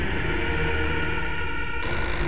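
A telephone rings in the Fahrenheit video game, a steady continuous ring that stays loud throughout and briefly shifts in tone near the end, playing over busy in-game background noise with no talking.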